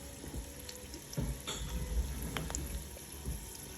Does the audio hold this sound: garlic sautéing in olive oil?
yes